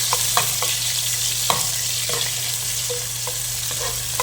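Onions frying in hot oil with mustard seeds already popping, a steady bright sizzle broken by a few sharp crackles and occasional stirring clinks, close and alone with no talking.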